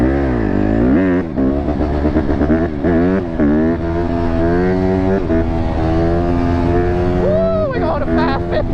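An off-road vehicle's engine drones in fifth gear with a steady, rising and wavering tone, loud and close, while people talk and shout over it.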